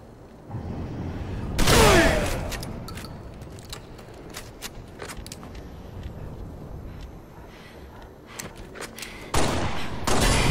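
Gunfire in a fast shooter video game during a last-man-standing shotgun spree, with bursts of sharp shots scattered across the clip, a loud blast near the start and another at the end, over a busy backdrop of game noise.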